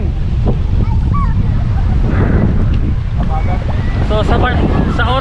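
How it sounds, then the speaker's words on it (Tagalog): Strong wind roars into the microphone at Looc Beach in Bagac, Bataan, a loud, constant low buffeting with surf underneath, while voices call out faintly in the background. "lakas ng hangin"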